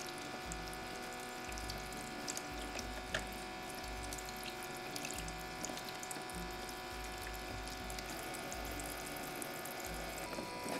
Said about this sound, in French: on va relaver nos légumes une deuxième fois sous l'eau pour bien enlever toute la terre.